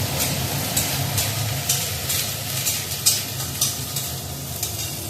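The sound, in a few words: cumin paste and tomato paste frying in a pan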